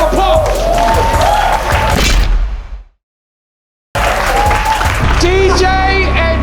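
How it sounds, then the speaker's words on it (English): A crowd at a basketball dunk contest finale applauds and cheers loudly with whoops, cut by an abrupt second of silence before the noise resumes at full level; voices shout within the din. "Give Chris Staples a round of applause."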